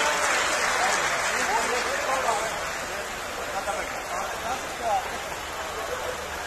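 An audience at a large Hindu religious gathering in India applauds to welcome a speaker, with a thick wash of clapping for a couple of seconds that settles into lighter scattered claps and crowd murmur.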